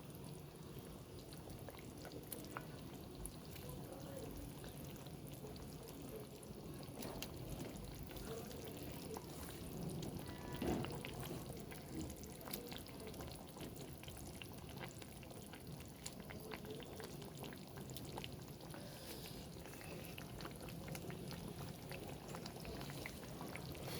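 Fish goes into a thin eggplant fish curry simmering in a pan, a steady low bubbling and sizzling with faint splashes that hold at an even level throughout.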